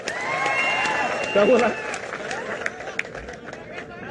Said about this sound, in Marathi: नितेश राणेंचं टाळ्या वाजवून जरा अभिनंदन करा